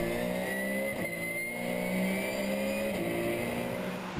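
Porsche 911 GT3 Cup race cars in the 2014 Carrera Cup Benelux at Zandvoort, exiting the Tarzan corner, give a loud, continuous close-up engine roar that holds steady throughout.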